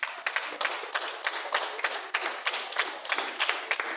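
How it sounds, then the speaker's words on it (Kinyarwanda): A small audience claps to thank parents at a kids' early-childhood-centre celebration in Nyanza, a steady brisk burst of close handclaps with a few distinct individual claps, no talking over it. "Reka nsaba batica dufatanya dukomera amashyi ababyeyi"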